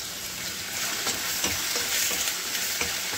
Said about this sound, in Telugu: సో ఇంకా ఫ్రై అవ్వాలి గైస్.